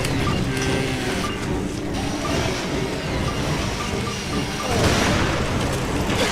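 Explosion in the video game Resident Evil Revelations 2, a dense booming roar that fills the whole stretch with a swelling burst near the end, loud and continuous without talk.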